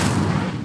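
A fire spell cast in the Hogwarts Legacy video game, heard as a loud, dense burst of low rumbling, crackling blast that holds steady for under a second and starts to fade at the end.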